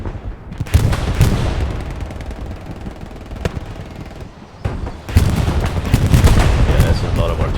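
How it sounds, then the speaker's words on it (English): Heavy artillery and gunfire rumble through a video game battle, dense continuous booms and rapid bursts with a brief lull midway before the barrage surges back loud and close, with voices talking over it. "Yeah, there's a lot of artillery going on."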